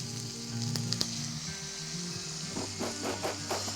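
Washed raw rice stirred and sautéed in ghee gives a steady, close sizzle with a soft crackle and brief stirring bursts toward the end, while milk-cooked sweet rice is prepared.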